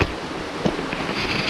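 Water rushing steadily at a hidden waterfall at Kapartheeswara Kona, a continuous broad roar with a few faint splashes, close and with no voices.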